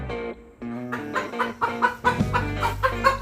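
A farm hen that laid an egg up on the hay in a loft clucks nearby in a quick run of repeated, rhythmic clucks, with no one talking.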